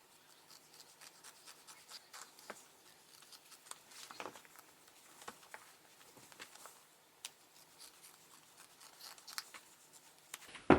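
Scissors cut up a pair of thrifted jeans, making faint, irregular snips and scratchy rubbing of denim close by in a quiet room.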